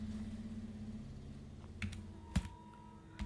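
Keys tapped on a computer keyboard while entering data in an Excel spreadsheet: a few sparse, distinct clicks over a steady low hum, with no voice present.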